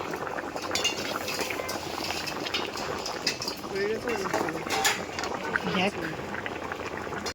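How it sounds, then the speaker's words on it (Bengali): Potatoes boil for biryani in a pot, a continuous bubbling churn that carries through the whole stretch, with nearby household talk and a few faint clinks over it. "কি এই বিরিয়ানির জন্য আলু সিদ্ধ হচ্ছে"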